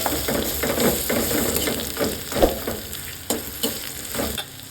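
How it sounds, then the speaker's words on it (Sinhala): Lasia root deviled with chilli flakes is stirred in a hot pan, a steady sizzle of frying under repeated scraping and clattering strokes of the spoon, close up and fairly loud. "කෑලි මිරිස් ටිකක් දාලා හොඳට මේක මික්ස් කරගන්න"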